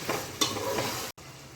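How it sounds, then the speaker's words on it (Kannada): Masala for a Marathi-style mutton biryani sizzles in a pan while a spoon stirs it, a close scraping and frying hiss with a sharp clank near the start and a brief cut before it continues. "ಮಸಾಲೆ ಸ್ವಲ್ಪ ಫ್ರೈ ಆಗಬೇಕಲ್ಲ ಒಗ್ಗರಣೆ"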